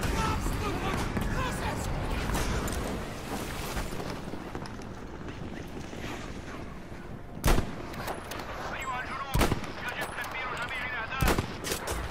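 Battlefield game gunfire: dense, continuous shooting and battle noise with a few sharp, loud single shots standing out near the end, mixed with speech.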